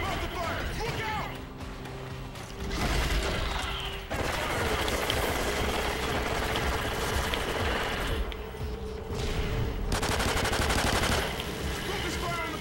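Rapid automatic gunfire in the Call of Duty Ghosts Extinction co-op mode, mostly continuous bursts layered with game effects and mechanical noise, with a short gap partway through.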